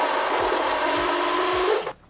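A power drill bores holes into a 5th-gen Toyota 4Runner body for a TJM Airtec snorkel install, producing a continuous, close, loud grinding whine with faint rhythmic knocks that cuts off abruptly at the end.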